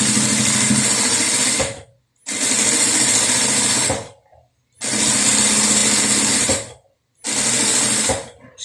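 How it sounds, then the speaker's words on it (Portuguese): A sewing machine stitches a bucket bag in four steady, loud runs of whirring needle action, each a couple of seconds long, broken by short pauses as the fabric is repositioned. "Vou virar minha peça e vou costurar também"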